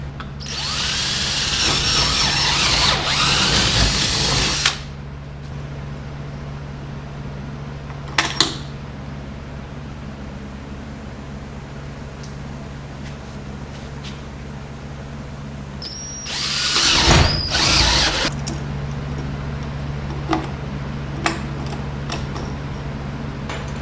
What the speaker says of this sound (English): I'm gonna drill the last 2 holes and I'll be done